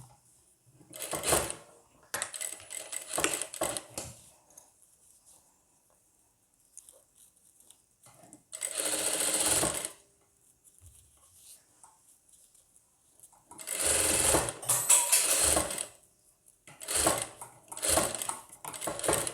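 A sewing machine stitches lace onto a blouse in several rapid whirring bursts, each lasting a second or two, separated by quiet pauses and faint handling clicks.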